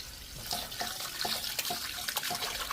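Tap water runs steadily into a sink while needle squid is rinsed by hand, a continuous close splashing flow broken by small sloshes and drips.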